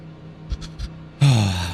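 A Mustang race car engine in a racing video game roars to life and revs loudly after a few soft thumps, its harsh, sustained drone filling the rest of the clip.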